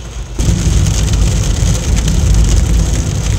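Steady heavy rain pours down on a surface outdoors in Ibaraki, a dense continuous wash of drops that starts abruptly and stays loud throughout, with no voices.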